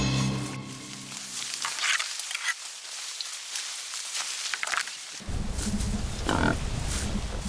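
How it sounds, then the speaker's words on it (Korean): A wild boar family with young foraging on an autumn hillside, snuffling through leaf litter for acorns and chestnuts, gives low, close grunts and rustling snorts, with a denser, louder burst of grunting near the end. "가을 산기슭에 멧돼지가 나타났다."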